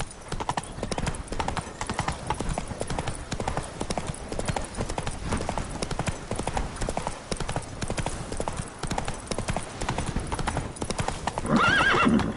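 Roach, the horse in The Witcher 3, gallops in a loud, rapid, continuous hoofbeat rhythm that runs nearly the whole time, ending with a brief whinny.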